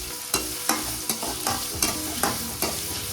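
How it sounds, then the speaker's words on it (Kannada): Vegetables and seasonings frying in a pan for bansi rava upittu, steady close sizzle punctuated by a regular beat of about seven spatula knocks and scrapes against the pan. "ಇದೆಲ್ಲ ಸ್ವಲ್ಪ ಫ್ರೈ ಆಗಬೇಕು."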